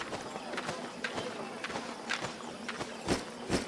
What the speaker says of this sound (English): So our footsteps will be showing that which armor are you wearing